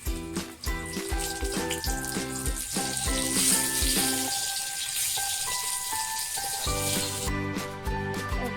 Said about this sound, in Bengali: বেগুনগুলো ভালো করে ভেজে নেব।